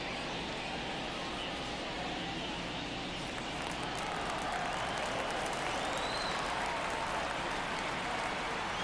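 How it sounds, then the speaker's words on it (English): A baseball crowd at a Philadelphia Phillies game against the Pittsburgh Pirates keeps up a dense, steady roar of cheering and applause that swells slightly, heard from within the stands with no clear voice above it. "These fans, they are ready to cheer about something."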